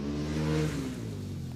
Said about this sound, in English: You can hear the revs just going up super high there.